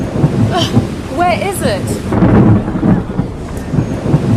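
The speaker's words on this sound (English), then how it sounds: "it's raining" Rain and thunder in an outdoor downpour, a steady wash of rainfall with low rumbling throughout, heard under people talking nearby.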